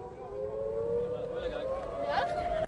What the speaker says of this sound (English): Let's just have a listen to the sirens there.